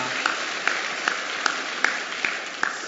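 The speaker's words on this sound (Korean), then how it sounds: "그렇게 하게 하신 우리 하나님께 박수로 감사하겠습니다" A church congregation applauds in thanks to God during a Sunday service, a steady roar of clapping punctuated by regular, sharper beats roughly every half second.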